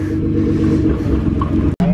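Loud exhaust rumble from a car at a rainy car meet, a deep steady idle with a low throbbing drone throughout and a brief cut near the end.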